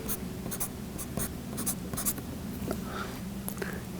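A pen signs collector trading cards, quick scratchy strokes in short bursts with brief pauses, close and crisp against a quiet room.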